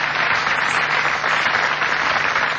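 An audience applauds in a hall, a dense, even wash of clapping that holds steady and loud throughout.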